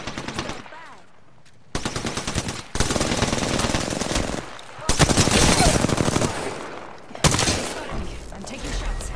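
Video game gunfire in Apex Legends: loud bursts of automatic fire broken by short pauses, with rapid rattling volleys and sharp shots, close and dominant.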